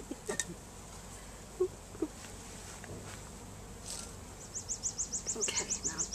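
Honey bees being shaken into a hive buzz near and far, with a few knocks and a pulsing buzz that grows louder toward the end.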